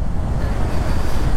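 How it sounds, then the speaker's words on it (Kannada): Water rushing with force at Kote Abbe waterfall during the monsoon, a steady, loud, dense roar with no break, heard close and alone. "ಇವಾಗ ಕೋಟೆ ಹಬ್ಬೆ ಫಾಲ್ಸಿಗೆ ಬಂದಿದ್ದೀವಿ"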